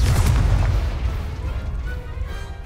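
An Incendio fire spell cast in the Hogwarts Legacy video game, a deep, loud whooshing burst that fades into a rumbling, crackling tail.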